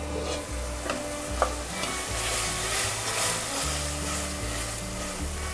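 Tomato rice masala sautés in a pan with a steady loud sizzle, while a utensil scrapes and stirs through it at intervals; no one talks.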